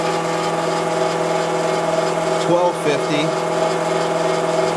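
An LS oil pump spins on a test rig as it is run up toward 1,000 RPM under measured oil pressure, giving a steady, close mechanical hum and whine. Someone briefly talks over it.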